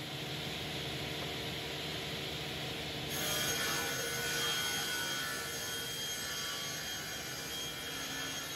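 An Altendorf sliding table saw cutting oak, a steady loud whirring drone with a broadband rasp that swells as the blade bites into the wood, close and continuous, with no talk.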